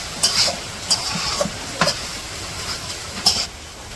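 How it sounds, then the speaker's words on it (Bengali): Spices sizzle in a hot pan while a utensil scrapes and stirs in several quick, separate strokes, close by and fairly loud, with no voices. "এখন ভালো করে মিশিয়ে আরও একটু ভাজা ভাজা করে দেবো"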